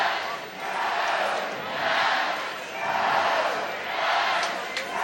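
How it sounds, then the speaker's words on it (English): Sold-out stadium crowd at a college softball game in Eugene, cheering in loud sustained waves that swell and ease several times, with no voices standing out from the mass of noise. "Another sold-out crowd at the Jane in Eugene."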